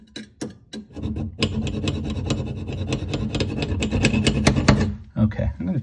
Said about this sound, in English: Never put any stress on the pipe itself and never saw any further than the collar.